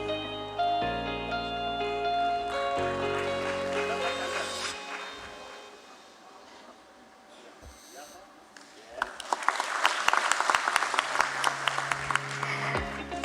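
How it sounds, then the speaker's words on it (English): Audience applause welcoming a guest at the NSDL listing ceremony at BSE, rising after a stretch of music and a quiet lull into a crisp burst of many hands clapping. "A big round of applause for Srimati Shri Priya Kumar, Public Interest Director, NSDL"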